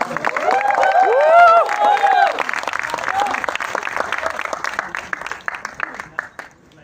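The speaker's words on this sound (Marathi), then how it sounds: "एकदा जोरदार टाळ्या अभिनेता ओम भूतकर याच्यासाठी" Audience applause for actor Om Bhutkar at a Marathi poetry event, loud and dense clapping from a crowd with voices and a cheer over it, gradually thinning and fading out.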